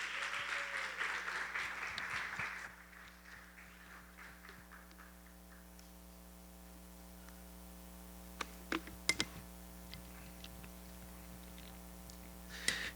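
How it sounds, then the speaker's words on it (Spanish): A church congregation at a Spanish-language service claps loudly for a couple of seconds, the applause then dropping away into a quiet room with steady hum and a few sharp taps. "Dele un fuerte aplauso y póngase de pie"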